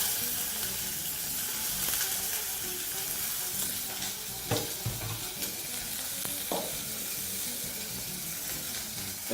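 Mutton pieces sizzling and frying in a hot, smoky pan while being stirred, a steady loud crackle with scraping stir strokes and a few brief knocks, no talking.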